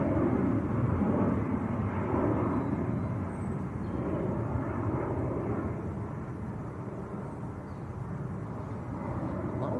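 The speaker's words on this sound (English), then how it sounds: "That was EasyJet to Paris, that's just taken off, Paris Charles de Gaulle." An EasyJet airliner climbs out of Manchester Airport bound for Paris Charles de Gaulle, its engines a steady broadband rumble at moderate distance that eases slightly partway through, with no voices.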